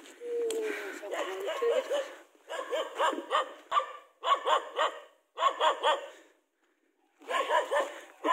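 A dog barks at night in a forest, close and loud, in repeated clustered bursts separated by short pauses, with a brief silence before the last run of barks.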